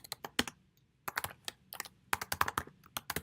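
Quick bursts of typing on a computer keyboard, keys clacking in irregular clusters with short pauses, close by.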